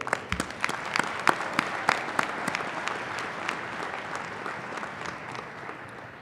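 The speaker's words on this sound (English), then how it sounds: "Let's give Rich another round of applause for those inspiring words." Audience applause at a university business school graduation ceremony, with several sharp, distinct claps standing out early before settling into a steady, moderately loud patter that continues throughout.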